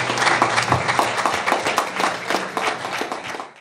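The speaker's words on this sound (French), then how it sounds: "on peut encore applaudir Adama et ses équipes" An audience applauds Adama and her team at a screening event, a dense, steady wash of clapping that stays full throughout and tails off right at the end.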